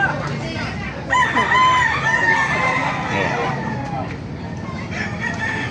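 A hennie rooster crows at a busy Baliuag market, a long wavering call standing out over the surrounding crowd babble and nearby voices.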